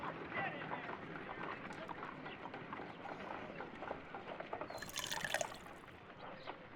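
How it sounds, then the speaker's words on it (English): Water is poured into a mold in the Sherlock Holmes Crimes & Punishments game, a faint, continuous liquid trickle and splash with occasional drips, rising briefly near the end, with speech likely underneath. "If I wish to shape the ice knife, then I need to pour water inside the mold."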